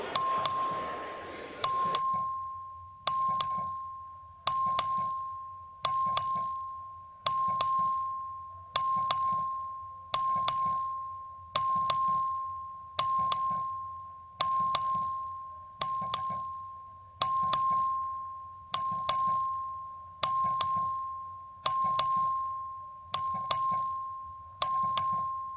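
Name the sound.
bell rung by the clerk in the legislative chamber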